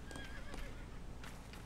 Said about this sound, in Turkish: At sesleri geliyor.